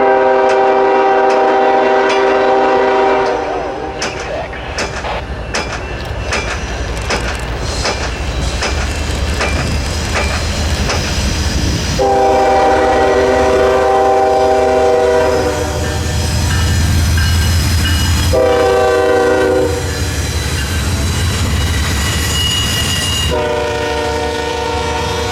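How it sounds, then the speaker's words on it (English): Norfolk Southern eastbound intermodal freight train, a mostly international land bridge train from Louisville, passes close by in Southwest Virginia, sounding loud repeated horn blasts over a steady rumble and rattle of cars. "Our first train is Norfolk Southern Train 23G, an eastbound, mostly international intermodal land bridge"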